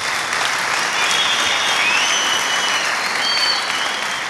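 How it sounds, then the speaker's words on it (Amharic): Dense, steady audience applause fills a testimony gathering, a loud continuous clapping from many hands that holds evenly throughout with no voices over it. "አጨብጭቡለት።"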